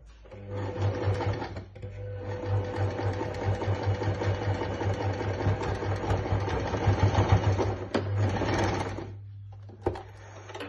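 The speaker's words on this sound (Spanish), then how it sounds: "Y ahora solo tenemos que coser las tablas que acabamos de hacer." A sewing machine stitches down the pleats of a cloth face mask with filter, a steady close whirring hum with rapid needle chatter running for several seconds, a brief pause, then more stitching before it stops.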